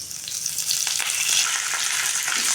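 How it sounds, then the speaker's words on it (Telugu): Curry leaves crackle and sizzle in hot oil in a pan, a loud, continuous spitting fry with bursts of brighter crackling and some stirring, no talk. "ఇప్పుడు మనం కరివేపాకు కూడా వేసేసుకుందాం"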